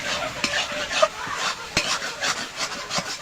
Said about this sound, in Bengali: এখনো ভাজতে হবে লাউটা